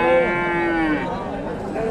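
A Friesian cross bull at a traditional cattle market gives a long, loud, drawn-out moo close by, while people talk in the busy surroundings.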